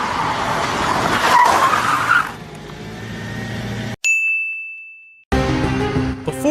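Cars in a filmed movie car chase, with tires skidding and squealing over engine roar, then a sharp clang and a ringing tone after an abrupt cut to silence, before engine noise returns.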